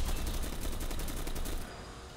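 Dense, continuous gunfire from many weapons in the Enlisted train mode battle, a steady wall of rapid shots and bursts close by that cuts off abruptly near the end.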